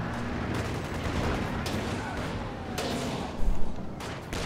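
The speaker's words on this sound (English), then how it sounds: "The double anti-tank gun's going to work." Anti-tank gun fire in a Company of Heroes 2 match: repeated sharp gunshot-like blasts and thuds over a busy battle soundscape, one heavier impact near the end.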